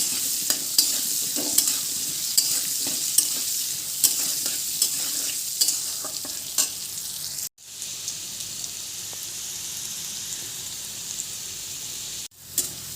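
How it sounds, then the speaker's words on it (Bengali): Potatoes sizzle and fry steadily in a pan, with repeated soft scraping and stirring clicks on top, cutting out twice briefly. "আলুগুলো ভেজে নেব।"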